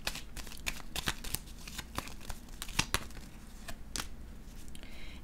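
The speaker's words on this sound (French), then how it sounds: "Je vais déposer une carte sur le triomphe ici." Tarot cards being handled and laid down on a table, a run of crisp, dry slaps and short shuffling rustles spaced irregularly, close and fairly quiet, with no talking.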